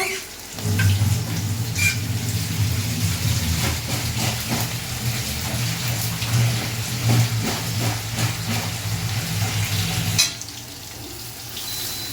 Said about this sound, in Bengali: ফুলকপিগুলো সব ধুয়ে নেব